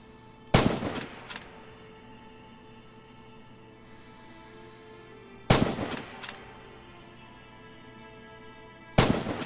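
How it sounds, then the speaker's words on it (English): Kar 98 sniper rifle with scope fired in Red Orchestra 2: three loud, sharp single shots spaced several seconds apart, each with a short echoing tail over a quiet ambient background. "This is the standard Car 98 with a sniper scope fitted."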